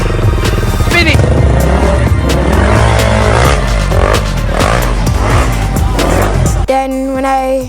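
A drift car spins its wheels at full throttle with the engine screaming and revving up and down, loud and close, before it drops away to a lower drone at the end.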